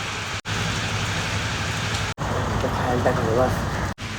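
Heavy monsoon rain falls near a village river, a dense, close hiss that continues without letup, with a voice briefly audible underneath.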